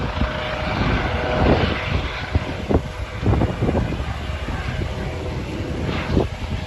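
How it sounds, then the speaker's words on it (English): A police helicopter's rotor chop and engine rumble carry through wind noise, fairly loud at first and gradually thinning as it moves off. "That's the helicopter going now."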